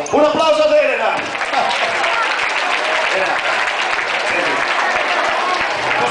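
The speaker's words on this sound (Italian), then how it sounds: "Un applauso ad Elena!" An audience claps and cheers after a magic trick at a live magic show in Castano Primo, Italy: loud, dense applause that runs steadily throughout, with a voice heard briefly at the start.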